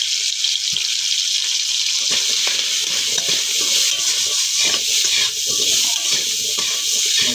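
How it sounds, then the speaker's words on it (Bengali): Crab frying in a pan with turmeric and chili powder in a village-style kitchen, a steady, loud, dense hiss and sizzle throughout with faint scattered clatter. "শুধু কাঁকড়াটাই ভেজে নেব।"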